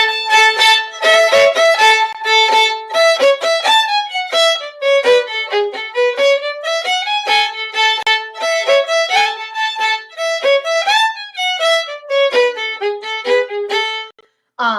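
A fiddle plays the A part of a tune alone, a lively run of quick, clearly bowed notes in steady rhythm, close and loud for about fourteen seconds before stopping.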